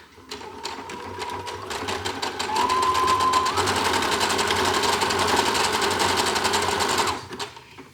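A sewing machine stitches fabric with a zigzag-style needle motion, a loud, continuous fast mechanical chatter that speeds up midway and runs for several seconds before stopping.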